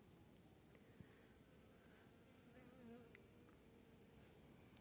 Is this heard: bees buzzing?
yes